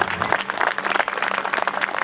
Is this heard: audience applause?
yes